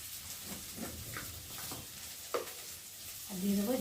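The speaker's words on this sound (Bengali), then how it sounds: "পেঁয়াজটা কতক্ষণ ভাজা ভাজা হোক" Onion and spices fry in a pan with a continuous soft sizzle, punctuated by several scraping stirs, one sharper clink, and a brief tonal squeal at the end.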